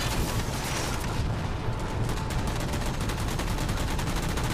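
Enemy gunfire in Halo 4 rattles in rapid, dense bursts, loud and continuous across the whole stretch with no talk over it.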